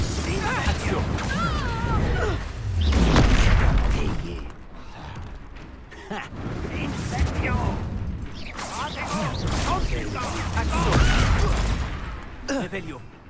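Spell explosions in a Harry Potter video game burst out twice as heavy, booming low rumbles over a dense mix of game music and battle noise, with voices in the background.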